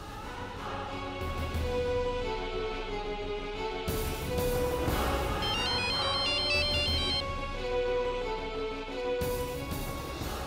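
A phone ringtone plays loudly and continuously, a repeating electronic melody with bright chiming notes, with no talking.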